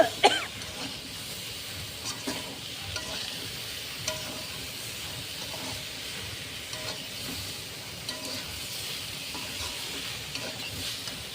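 Spiced cauliflower and potato curry sautéing in a pan, a steady low sizzle of frying with scattered scraping and stirring clicks from a spoon, fairly quiet and without talk.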